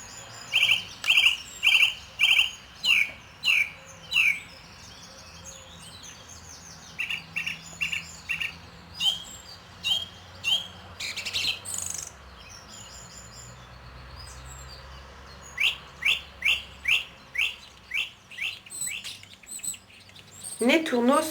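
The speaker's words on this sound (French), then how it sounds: "la grive musicienne" Song thrush song: crisp, whistled phrases, each repeated several times in quick bursts, with short pauses between runs and faint insect hum beneath.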